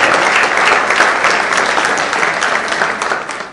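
An audience at a speech by Piyush Goyal breaks into loud, close, sustained applause, a thick continuous wash of clapping that fades slightly toward the end.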